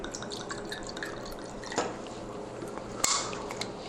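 One ounce of vodka is poured for a Long Island Iced Tea: a soft trickle with light drips, plus a couple of sharp glass clicks, close by and with no talking.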